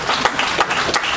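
An audience at a book launch luncheon gives a short round of applause, a brief dense patter of many hands with a few louder claps standing out.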